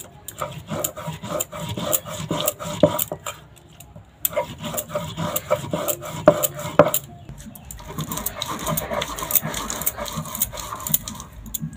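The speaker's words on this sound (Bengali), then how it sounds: "আমি শিলেতে বেটে নিচ্ছি, চাইলে আপনারা মিক্সিতেও বেটে নিতে পারেন" Soaked rice being ground on a stone grinding slab, heard as close, rhythmic scraping and rubbing strokes in repeated bursts with short pauses, no voices.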